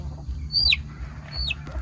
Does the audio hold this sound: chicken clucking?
yes